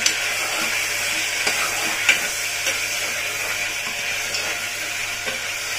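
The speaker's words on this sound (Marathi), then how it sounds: "आता हे चांगलं आपण हलवून घेऊ" A spoon stirs green masala mutton curry, seasoned with turmeric and salt, in a pot, a soft steady sizzling hiss with faint periodic scraping, fairly quiet.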